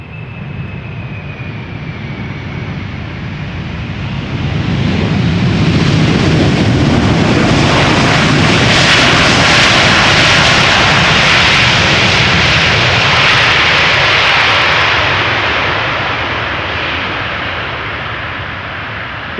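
Airliner arriving at Amsterdam Schiphol Airport on a sunny day, a loud, broad jet roar that builds and sustains for many seconds, with reversers applied, then slowly fades.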